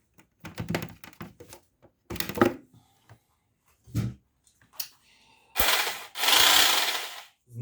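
A NOWA WY 750bl electric jigsaw gives several short buzzing runs mixed with mechanical clicks and knocks, ending in two louder, sustained bursts close by.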